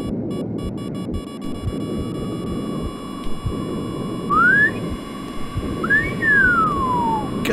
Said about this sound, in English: I can hear him whistling around me.